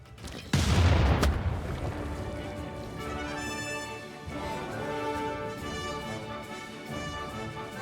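Units firing on a knight in Civilization VI: a sudden heavy boom of a volley, followed by a sustained rumbling, ringing tail layered with game music tones, fairly loud and without talk.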